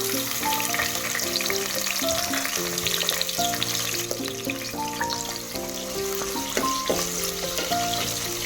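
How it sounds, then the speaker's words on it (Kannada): Sliced onions fry in a pan with cloves and cumin for mutton sambar, a continuous close sizzle with occasional stirring, heard under steady background music. "ಇದು ಚಂದ ಗೋಲ್ಡನ್ ಕಲರ್ ಆಗತ್ತಾನ ಫ್ರೈ ಮಾಡ್ಕೊತಾ ಇರ್ಬೇಕು"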